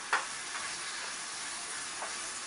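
Goulash sizzles steadily in a hot pan under a continuous frying hiss, with a couple of soft scrapes as it is stirred.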